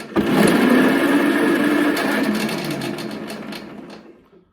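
A 3D-printed vehicle drive system with a chain, running in reverse, gives a steady, loud, close mechanical whir and buzz that holds for a few seconds, then winds down and stops.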